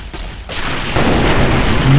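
A laser rifle fires once in Fallout New Vegas, a sharp loud burst followed by a sustained energy hiss that lingers and rises slightly, heard alone without voices.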